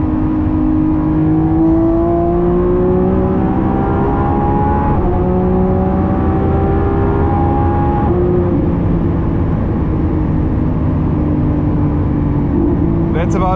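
A 2026 Lamborghini Revuelto with a V12 engine, heard from inside while driving: a loud engine note that climbs in pitch through the gears, with steady drivetrain and road roar beneath it.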